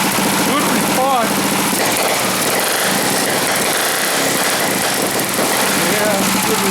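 A go-kart engine idles on its carburetor, a steady loud small-engine drone with a slightly uneven rhythm, while someone talks over it throughout.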